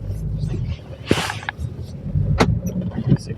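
A Nissan Qashqai driving, heard from inside as a low steady engine and road rumble with a few brief clicks and knocks, while people talk over it.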